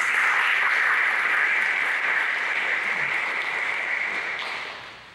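Dense applause from an awards ceremony crowd, steady and loud for several seconds before gradually fading out.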